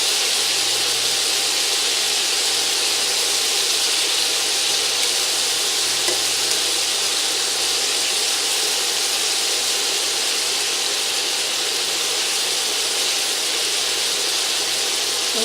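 Beef and bacon brown in a pot, giving a steady, dense sizzle with constant crackling splatter throughout, loud and close with no talking.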